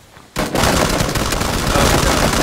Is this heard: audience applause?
no